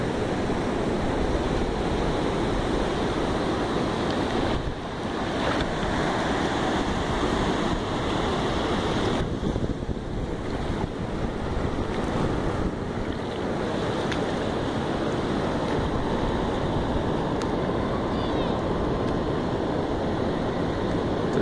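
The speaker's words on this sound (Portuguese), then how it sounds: "Mostrar um pouquinho pra vocês o que é uma tranquilidade numa praia aí, ó." Waves wash continuously onto a calm beach at Aconchego da Gaivota in Santa Catarina, a steady surf wash mixed with wind buffeting on the microphone, loud and close, with no voices.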